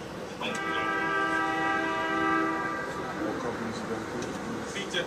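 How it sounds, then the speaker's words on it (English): A loud, sustained horn blares for several seconds at a warehouse fire test, sounding the end of the test amid steady background noise and voices. "You'll hear a horn go off"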